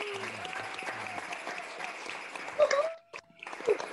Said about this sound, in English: let's celebrate our class, our graduates of 2020 with thunderous applause